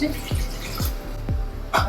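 Water splashes into a bowl for khaman dhokla batter made with besan, heard as a few separate glugging drops and splashes in an uneven rhythm, close by in a home kitchen.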